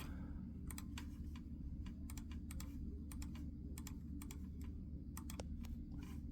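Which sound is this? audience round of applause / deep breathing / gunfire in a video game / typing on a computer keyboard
typing on a computer keyboard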